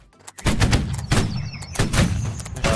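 Musket line volley fire in the Holdfast: Nations at War video game: loud overlapping crackling shots in quick ragged bursts, repeating about every half second to second, close and dense.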